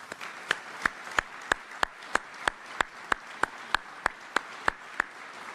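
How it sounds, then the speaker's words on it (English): An audience applauds a soldier's family at the Army Medal of Honor Hall of Heroes induction ceremony. Soft crowd clapping runs underneath, while one nearby pair of hands claps loudly in a steady, even rhythm. "let's give them all a round of applause"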